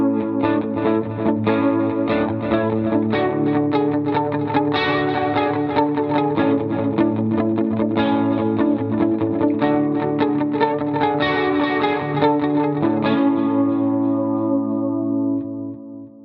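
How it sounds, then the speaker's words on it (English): Electric guitar riff played through effects, with chorus and distortion over a steady low drone, a dense run of picked notes lasting about fifteen seconds before ringing out and fading. "at the beginning of each mode, I'm going to play a guitar riff."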